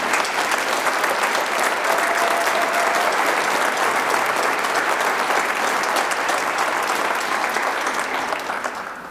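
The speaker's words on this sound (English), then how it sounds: "how about a round of applause for all of them?" A concert audience applauds continuously for university band and orchestra ensembles, a dense wash of clapping that holds steady and then begins to taper off near the end.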